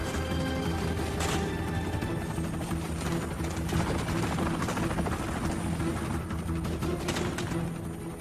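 A Sikorsky UH-60 Black Hawk helicopter hovers close by, its rotor thudding in a rapid steady chop over a loud continuous engine roar that never lets up.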